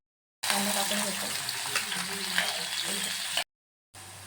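Onion frying in oil in a pan, a steady bright sizzle lasting about three seconds before cutting off, then briefly resuming after a short silence.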